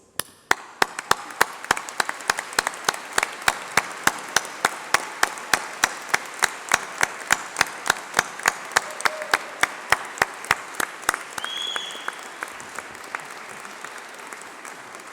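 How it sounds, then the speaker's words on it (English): A graduation ceremony audience applauds the course reps as they stand, with sharp, evenly spaced claps ringing out over a continuous wash of crowd clapping that fades out near the end. "please stand up while we give you a round of applause"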